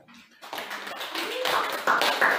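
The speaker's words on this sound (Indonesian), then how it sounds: "Tepuk tangan buat kelompok 1." Classroom applause for a student group, a burst of many hands clapping that builds and grows louder toward the end, with voices mixed in underneath.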